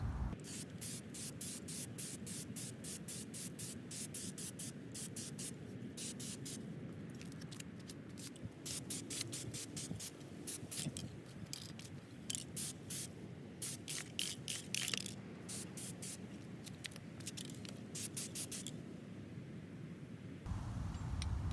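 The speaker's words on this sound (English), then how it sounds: "I'm just going to spray it gold on the outside." Short bursts of hissing gold spray paint from an aerosol can repeat in quick rhythmic pulses, close and steady, then stop near the end.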